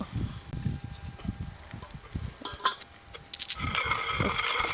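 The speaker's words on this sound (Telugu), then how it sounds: "ఇప్పుడైతే వేయించుకున్న మసాలాలు నూరుదాం" Roasted spices for mutton fry are pounded and ground with a pestle, giving a series of dull, rhythmic thuds followed by scraping, clinking strokes that grow into a steadier gritty grinding.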